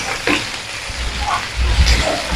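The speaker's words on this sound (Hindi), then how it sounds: "अब इन दोनों चीज़ों को मैं 2 मिनट के लिए फ्राई कर लेती हूँ।" Ingredients for chicken pota karhai frying in a pan, a close, dense sizzle with soft stirring scrapes that grows slightly louder toward the end, heard alone without speech.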